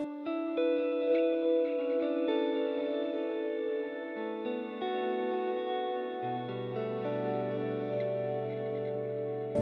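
Ambient guitar played through a delay effect on a Line 6 Helix, with sustained, washy repeating notes layering into a dreamy soundscape, steady and moderately loud throughout, no voices.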